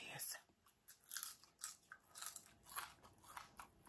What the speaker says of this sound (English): Oh, it's a crunchy piece.